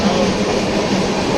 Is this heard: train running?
yes